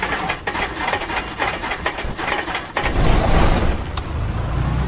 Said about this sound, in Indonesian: Terus kita langsung aja starter engine-nya.